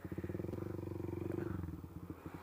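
A motorcycle, likely a Suzuki GSX-R150, fitted with a racing exhaust idles and revs nearby in a rapid, throbbing pulse with a deep, burbling tone.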